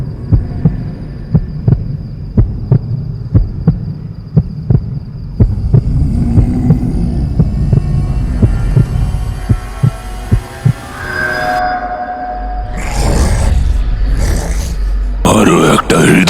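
A throbbing heartbeat effect stands in for pulsing ground, beating in a steady run of thumps that grows denser and blends with a low hum and rising tones before loud swelling bursts near the end.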